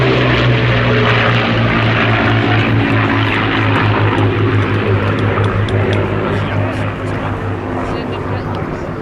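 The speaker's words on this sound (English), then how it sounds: "Following it, the Yakovlev Yak-3." Yakovlev Yak-3 piston-engine fighter flying at the Duxford Battle of Britain Airshow, a sustained loud propeller engine roar that fades slightly toward the end, with a commentator speaking over it.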